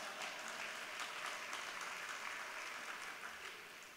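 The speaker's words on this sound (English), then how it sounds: "Are you gonna clap for that?" An audience applauds at Stockton's State of the City address, a steady wash of clapping that stays fairly quiet and even for a few seconds before easing slightly at the end.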